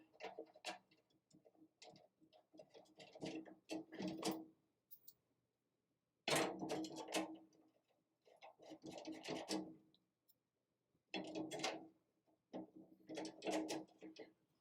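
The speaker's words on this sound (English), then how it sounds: "we're just going to start threading all the screws in loose with your hand" Small screws being threaded loosely by hand into a bar for an interior colonial shutter closure, with soft irregular ticking and clicking in bursts separated by short pauses, close and quiet.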